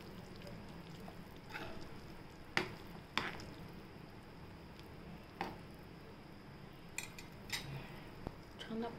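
A spoon stirs methi kofta curry in a pan, with quiet scraping and a few sharp metallic clinks against the pan over a low, steady kitchen background.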